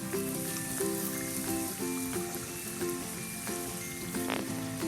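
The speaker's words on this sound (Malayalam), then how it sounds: "ബാക്കിയുള്ള ഈ മധുരമുള്ള അടകളും ഇതുപോലെ തന്നെ ഫ്രൈ ചെയ്തെടുക്കാം" Sweet stuffed rice dumplings deep frying in hot oil, a continuous bubbling sizzle at moderate level with a faint tonal hum underneath, no voices.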